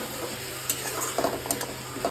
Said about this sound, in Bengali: তো এবার এটাকে ভালো করে একটু ভেজে নিতে হবে।